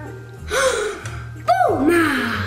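A cat meows twice, loud and close, with rising and falling tones over a soft background hum, at a Christmas-time family scene.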